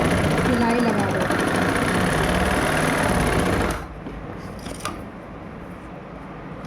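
A sewing machine stitches a kurti, running with a steady loud mechanical whir for several seconds and then stopping abruptly, leaving quiet room sound with small clicks.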